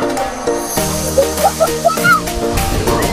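Big sea waves slosh and wash near a beach where a family is swimming, a loud, continuous rush of water with voices calling out over it.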